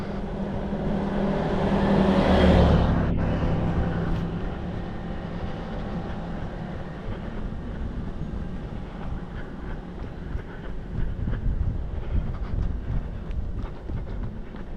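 A four-wheeler on a country road rises to a near pass and then fades into a low rumble, heard from the roadside over wind and footsteps.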